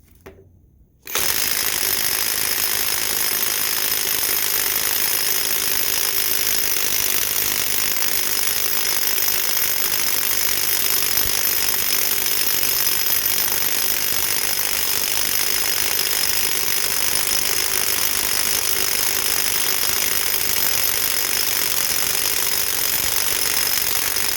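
A Top Shak brushless impact wrench runs in reverse, a steady loud mechanical hammering rattle that starts abruptly after a brief quiet moment and continues unbroken for over twenty seconds.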